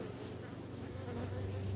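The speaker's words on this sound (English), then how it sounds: "the bees seem quite content" Honey bees buzz around a backyard hive, a soft, dense, continuous hum with no voices over it.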